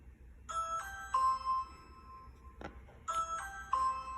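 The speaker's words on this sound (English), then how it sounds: "There was a small beep from the M5 stick before the trademark ring doorbell noise played." A bootleg Ring doorbell chime played from an M5 stick sounds twice as a bright multi-note ding-dong melody, with a short sharp click between the two chimes, clear and close against a quiet background.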